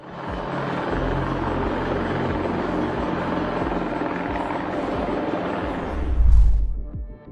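A helicopter flying low over water drones loudly and steadily with rotor chop, swelling briefly as it passes close before cutting off abruptly.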